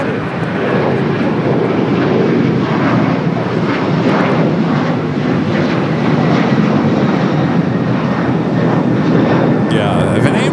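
An American Airlines jet roars steadily on its takeoff run from runway 25 right at LAX, a loud continuous engine rumble heard from nearby, with voices talking over it.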